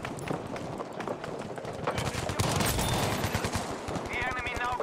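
Shotgun fire in the Battlefield video game, dense overlapping blasts and rapid gunfire in a loud, continuous battle din, with voices faintly mixed in.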